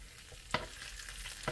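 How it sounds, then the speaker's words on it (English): Soft sizzling of flour-coated batter frying in hot oil, with a couple of brief crackling bursts. "See it dropped in there and it's frying?"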